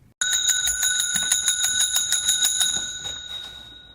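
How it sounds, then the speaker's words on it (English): A metal bell is struck over and over in a fast, steady run of bright ringing strikes that sound close and fairly loud, then stop and leave a fading ring. "Why the hell are you hitting the bell like that?"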